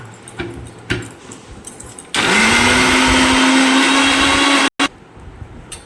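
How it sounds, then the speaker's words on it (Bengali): A blender grinds split matar dal with turmeric and salt in a loud, steady whir lasting a few seconds, with lighter clatter and handling before it starts and a short stop-start at the end. "নুন হলুদ দিয়ে একটুখানি বেটে নেব মটর ডালটা।"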